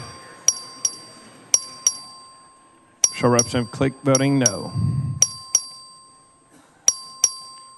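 Voting bell rung by the clerk in the Texas House chamber during a record vote, sharp single dings repeating at irregular intervals, loud and close, with a man announcing a vote partway through.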